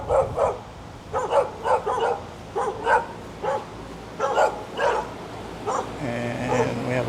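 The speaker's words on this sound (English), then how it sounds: "Neighboring dogs barking at me." Neighboring dogs bark from a nearby backyard in a quick, irregular series of about a dozen sharp barks at moderate distance, followed by a low mechanical hum at the end.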